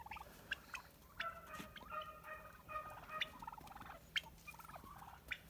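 Several turkeys gobble in repeated warbling bursts, moderately close, with short pauses between calls over a quiet outdoor background with first snow on the ground.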